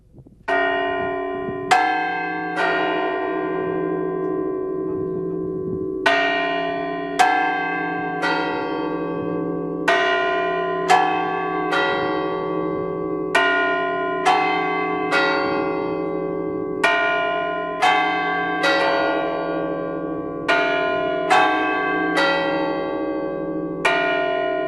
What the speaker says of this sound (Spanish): Ese toque es para cuando se perdía alguien, que se llama toque de perdidos